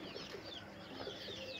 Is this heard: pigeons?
yes